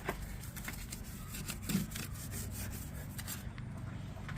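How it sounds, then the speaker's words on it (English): A paintbrush scrubbing grime inside an RV engine compartment makes a close, continuous bristly rubbing with steady back-and-forth strokes, with no talking. "Got a paintbrush here. So you can detail, scrub areas that need to be scrubbed and cleaned."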